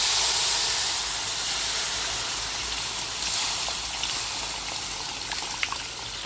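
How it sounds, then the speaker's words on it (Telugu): Tamarind water poured into a simmering fish curry in a pot, a steady close hiss and gush of liquid that runs on without pause and fades slightly. "ఇప్పుడు చింతపండు కలిపి పెట్టుకుని పులుసు పోసుకుందాం."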